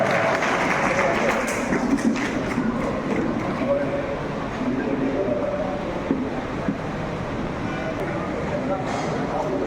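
Audience applause at an annual general meeting of a fine arts society, a fairly loud spread of clapping from a crowd in a hall that carries on steadily with voices mixed in.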